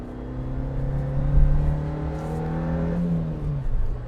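A Suzuki Jimny XL 5-door engine pulls hard in second gear with the throttle flat, a rising droning whine that climbs steadily in pitch over several seconds, heard from inside the cabin with road noise beneath.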